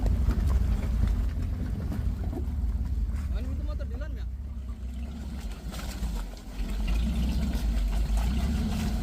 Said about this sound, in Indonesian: Mobil melaju di jalur yang sangat berlumpur.